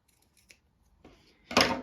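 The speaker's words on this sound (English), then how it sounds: "Just snip up to your stitch line." Sewing scissors snip thin fabric up to the stitch line in a few quiet, close cuts, with a last crisp snip louder than the rest.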